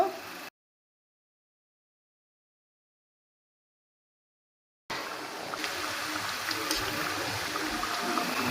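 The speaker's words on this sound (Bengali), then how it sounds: "আবার জল দেব" Water poured into fried spice paste for a bhetki fish curry: after a few seconds of silence, a steady rushing, bubbling pour sets in and carries on at moderate volume.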